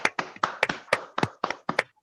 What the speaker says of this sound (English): Please give a huge round of applause to Master Gode Vansh.